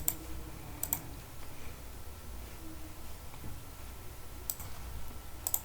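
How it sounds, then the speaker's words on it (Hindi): Typing on a computer keyboard while entering QB64 graphics code, a faint, sparse patter of soft key clicks over a low hum, with a few sharper taps near the start and end. "तो मैं यहाँ पर टाइप करता हूँ ड्रॉ फिर से R30"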